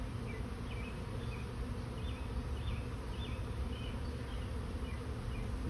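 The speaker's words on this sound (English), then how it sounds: "pretty sure that hive number 2 is doing a practice swarm right now." Steady, dense buzzing of honeybees around hive number 2 during a practice swarm, a continuous outdoor drone of many bees with no break and no voices.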